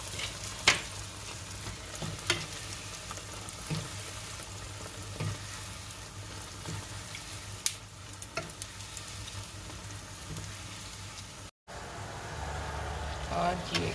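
Nawsaji pieces frying in hot oil in a pan: a continuous soft sizzle with occasional crackles and stirring, heard close under a person talking throughout.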